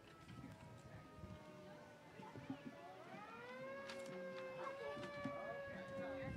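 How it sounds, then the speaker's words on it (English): Sirens wail during the Nebraskaland Days parade, their rising and falling tones fairly faint and distant under crowd noise and a talking voice, and the wailing grows stronger in the second half. "I hear sirens"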